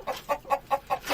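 Two backyard hens clucking close by, a run of about six short evenly spaced clucks in quick rhythm, fairly soft with no other sound.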